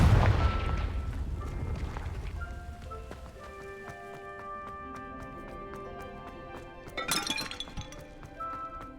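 Confringo fire blast spell from a Harry Potter video game: a sharp burst at the start followed by ringing, chiming magical tones that sustain and layer, then a second bright crackling flare near the end.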